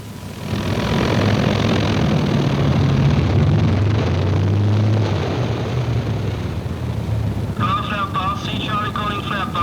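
A World War II era aircraft engine drones loudly and steadily before taxiing and takeoff, a continuous low roar that carries on while radio-style voices talk over it.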